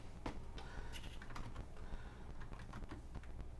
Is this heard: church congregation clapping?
no